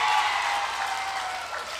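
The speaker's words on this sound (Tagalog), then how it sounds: "Naku, malakas ang palakpak ni..." A hospital visit crowd applauds after a speech pledge: a steady wash of many hands clapping, moderately loud and sustained, slowly tapering near the end.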